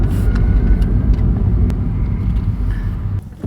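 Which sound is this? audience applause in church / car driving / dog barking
car driving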